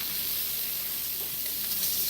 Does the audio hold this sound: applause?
no